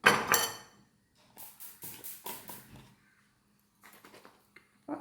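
A lid is closed on a full container of homemade lemon pickle, heard as a few close, hard clattering knocks of container and lid, spread out with short pauses and a final tap.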